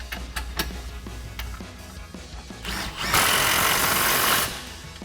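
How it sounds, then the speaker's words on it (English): A cordless impact wrench with a 15mm socket drives a nut onto a strut bolt on a 2012-2019 RWD Dodge Challenger, a loud continuous rattling burst of about a second and a half after a few sharp clicks and taps. "we'll go ahead and tighten this with our impact and 15mm socket"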